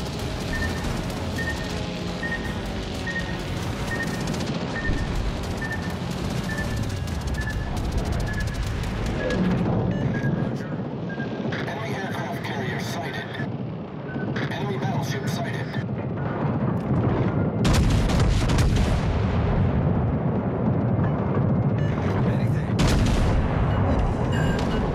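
Naval gunfire from warships in the World of Warships Legends video game, featuring the battleship Bellerophon: repeated heavy booming salvos and crashes over a steady game soundtrack, loud throughout, with a radio-style voice speaking at times.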